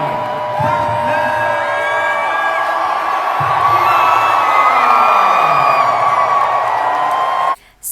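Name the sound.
arena crowd cheering and shouting for Manny Pacquiao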